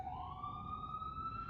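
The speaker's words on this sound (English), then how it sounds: "the sirens are getting on my last nerve" Emergency vehicle siren wailing outside, a single rising tone sweeping slowly upward, faint and distant-sounding, heard alone without talk.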